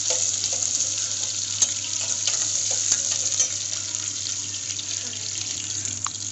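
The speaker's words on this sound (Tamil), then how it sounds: "வெங்காயம் வதங்கிருச்சு." Onions sauté in a pan while sambar is being made, giving a steady close sizzle with occasional stirring clicks and no talking.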